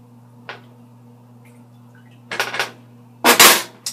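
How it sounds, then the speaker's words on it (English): A spoon stirs rice for dirty rice in a cooking pot, giving a light clink followed by two louder bursts of scraping and clanking against the metal, close up with quiet pauses between. "Stir that up a little"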